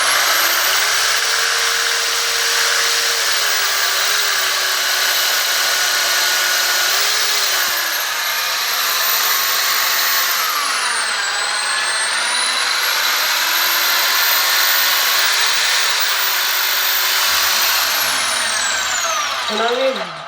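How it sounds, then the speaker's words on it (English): A power drill runs steadily through ceramic tile while mounting a glass kitchen shelf, a continuous high-pitched whine with shifting tone as speed and pressure change, loud and close throughout, ending with a brief stop. "So now we've drilled through the tile."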